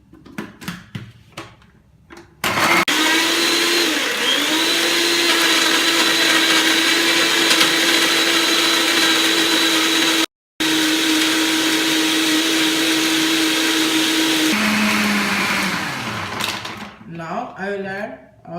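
A blender whirs loudly and steadily for about twelve seconds, blending a fruit milkshake of fruit, ice cubes and milk, with a brief cut midway; a voice talks before and after.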